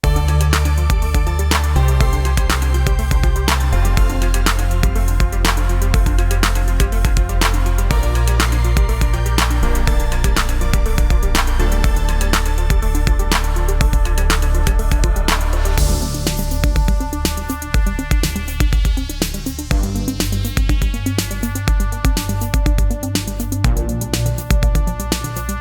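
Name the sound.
synth track, Retro Serum sounds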